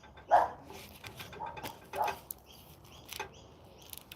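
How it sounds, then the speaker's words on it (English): A dog in a Melbourne backyard gives a couple of loud barks followed by quieter yips and whimpers, with faint birdsong in the background. "Some dogs just bark, you know."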